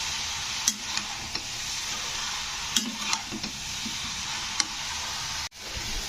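Grated radish and potatoes being stirred together in a pan produce a soft continuous sizzle, broken by several sharp clicks of a spoon against the pan.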